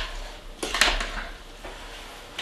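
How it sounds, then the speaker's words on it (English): Spoon clinks and scrapes against a bowl while German potato salad with bacon and sauce is stirred, a few quick close knocks in a short burst. "I'm just gonna give it a stir into the potatoes, get the bacon and the sauce"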